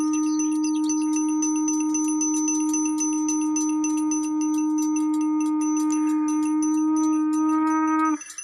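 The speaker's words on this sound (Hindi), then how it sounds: "अभी जो आप ये शंख ध्वनि सुन रहे हैं, घंटी की आवाज़ सुन रहे हैं" A conch shell blows one long, steady, loud note while a temple bell rings in quick repeated strokes beneath it during a dhuni tapasya ritual at Badala Dham. Both stop together near the end, with no voices.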